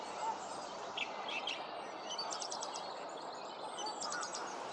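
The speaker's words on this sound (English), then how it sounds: "I can hear a song thrush in full song." A distant song thrush repeats short, bright phrases in bursts over a steady background hiss of quiet spring marshland ambience.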